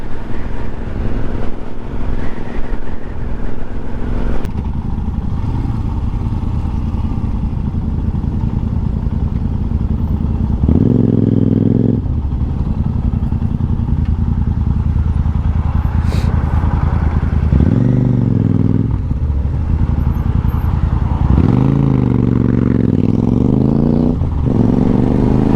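Motorcycle engine droning steadily throughout on a group ride of about twenty bikes from Bethersden, with rising and falling rev swells of gear changes and acceleration, close and loud with constant wind and road noise.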